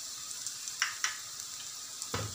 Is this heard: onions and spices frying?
yes